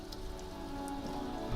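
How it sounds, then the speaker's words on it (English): Steady rain falls in the game Disco Elysium, a dense, continuous patter on surfaces with a few sharper droplet ticks, close and even throughout with no talk. "This rain will not let up anytime soon."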